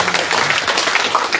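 Applause from the audience at a 2023 public town-hall meeting in Daap-myeon, Gwangyang, dense steady clapping from many hands filling the short moment.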